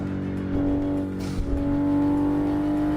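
A racing-simulator car engine drones at steady high revs, loud and close, with a sustained tonal whine and a brief burst of noise midway, no speech.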